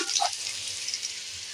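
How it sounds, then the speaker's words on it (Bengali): Potatoes fry in a pan for a Bengali prawn and ash gourd curry, giving a steady, even sizzle with a brief brighter crackle near the start, heard alone at moderate loudness. "আলুটা ঠিক এইভাবে আমি ভেজে নেব"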